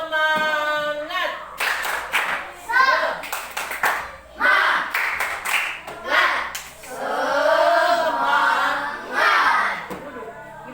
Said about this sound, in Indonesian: Berdiri semua, pakailah telinga kamu. Tepuk semangat.